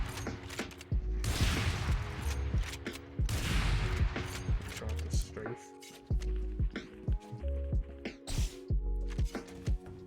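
Sniper rifle shots from the Marshal or Operator in the Valorant video game ring out repeatedly, with sharp loud blasts at uneven intervals and brief mechanical clicks between them.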